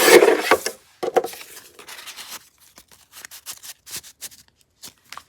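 Paper tags being trimmed down, giving a burst of dry rasping cuts at the start, then scattered soft snips and rustles that fade to quiet.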